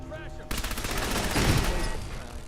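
Video game gunfire bursts out suddenly after a quiet moment, a dense loud volley of shots running steadily for about two seconds with a heavier peak midway.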